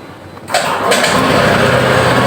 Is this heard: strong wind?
no